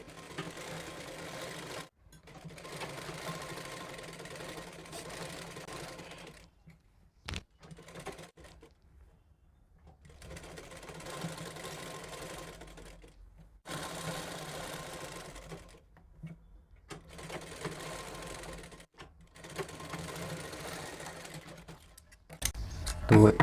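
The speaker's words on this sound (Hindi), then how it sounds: "हमने 2 पॉइंट की ये सिलाई देनी है गले में" A sewing machine runs in bursts stitching a narrow, neat two-point seam along a blouse neckline, steady whirring runs of several seconds broken by short pauses, close and fairly loud.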